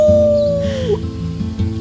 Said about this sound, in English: Let's start with our team howl.